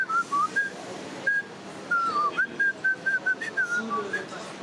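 A person whistles a zouk tune, a clear melody in short phrases with brief pauses, close and fairly loud over a quiet background.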